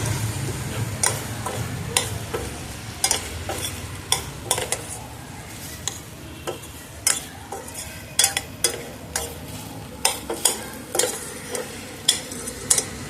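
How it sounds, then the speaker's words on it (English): Hostel-style noodle recipe being mixed in a pan, repeated sharp clinks and scrapes of a spoon against metal over a soft background sizzle, irregular but steady stirring rhythm, close and clear. "mix it real well"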